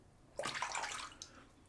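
A Merkur 34c safety razor is rinsed under running water, a short splashing burst of about a second that trails off quickly, close and fairly quiet.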